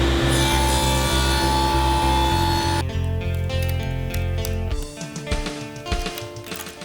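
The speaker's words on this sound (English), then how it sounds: "And to do that, I'm going to use a dado set at my table saw." A table saw fitted with a stacked dado set cuts a rabbet in wood, a loud steady whine at full speed that drops in pitch as the blade bites, then winds down into clatter and rattling.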